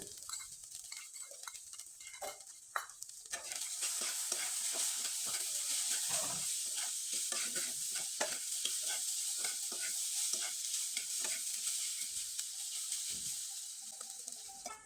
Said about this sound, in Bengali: এবার খুব ভালোভাবে নেড়ে চেড়ে নিতে হবে